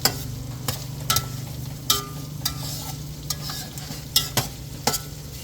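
A ladle stirring food in a cooking pot, scraping and knocking against the metal at irregular intervals over a constant frying sizzle, close and clear, with no talking.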